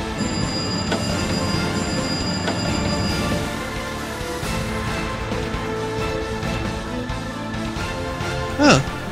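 A steady rumbling, clattering video-game train run in Roblox Terminal Railways, with continuous rail noise and rattling, loud throughout, ending in a brief rising whistle-like squeal.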